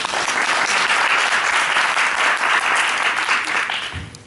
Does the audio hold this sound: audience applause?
yes